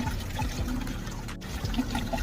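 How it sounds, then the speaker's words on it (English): Water drains out through a hose from an A.O. Smith water heater, a steady trickling, gurgling flow that is soft and close with no talk over it. "So that way the water can properly drain out of it, and the water's now coming out."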